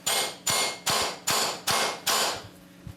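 Six evenly spaced hammer blows strike wood, each a sharp loud knock with a brief ringing decay, close by and with no voices.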